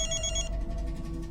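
A phone rings with a bright electronic trill for about half a second over a loud low background hum, then fades as the hum continues.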